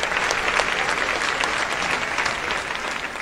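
An audience at a mushaira and kavi sammelan claps loudly and continuously, a dense even roar of applause held close and steady throughout, with no voices rising above it.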